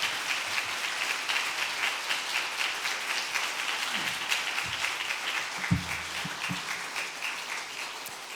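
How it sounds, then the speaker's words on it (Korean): A church congregation at an autumn revival meeting claps to welcome a pastor to the pulpit, a loud and sustained crowd applause lasting about eight seconds, with a few low thumps and faint murmurs underneath. "다시 한번 박수로 우리 목사님 모시도록 하겠습니다"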